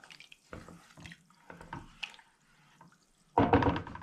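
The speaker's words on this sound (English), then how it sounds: "I'm going to top the saucepan up with spring water" Spring water poured from a container into a saucepan of brew sugar for a porter beer, a few short splashy pours followed by a louder, fuller gush near the end.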